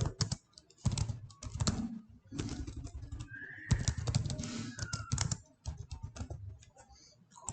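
Fingers type remarks on a computer keyboard at close range, with bursts of quick clattering keystrokes broken by short pauses and a faint chirp of birds in the background.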